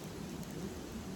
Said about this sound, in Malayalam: ചെറിയൊരു ചാറ്റൽ മഴയുണ്ട്.